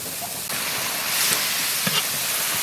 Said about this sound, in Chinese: 大火把汁子慢慢收干就好了